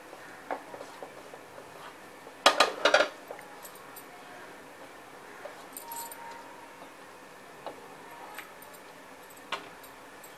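Prawn biryani being mixed in a pot, with a short burst of utensil clatter and scraping near the middle, then only sparse faint clinks against quiet background.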